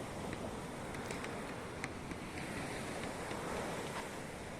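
Steady broadband wash of surf rolling in at Sundak Timur beach, Gunung Kidul, Indonesia, with wind noise buffeting the microphone throughout; no voices.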